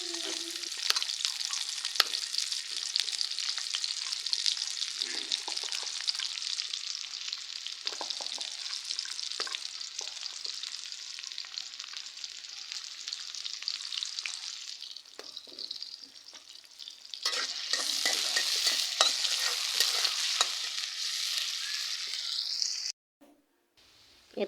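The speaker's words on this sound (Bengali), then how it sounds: "আর এখানে আমি বাগারের জন্য পেঁয়াজ কুচি দিয়ে লাল লাল হয়ে গেলে আমি পরে মাংসটা দিব।" Chopped onions frying in oil for a baghar, a steady close sizzle with stirring scrapes that dips midway, then flares up loudly again before stopping.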